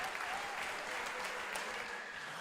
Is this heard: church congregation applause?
yes